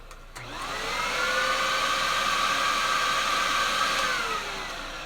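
A reconditioned vacuum cleaner fitted with swapped cyclones runs with a steady, close, droning whine that swells up and then eases slightly toward the end.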